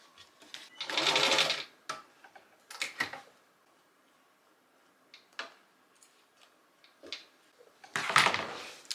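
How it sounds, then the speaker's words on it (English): A sewing machine stitches a fabric Christmas cracker, running in short separate bursts with quiet pauses and small clicks of handling in between. "I'll just sew it here now."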